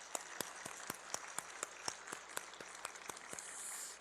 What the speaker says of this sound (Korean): 우리 하나님께 영광의 박수 한번 올려주시죠.